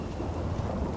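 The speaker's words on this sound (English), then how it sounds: "Thinking how wonderful it'd be to get out of this infernal rain." Steady rain hisses over low rumbling thunder in the Fallout 4 video game, a dense, continuous storm bed with no voices.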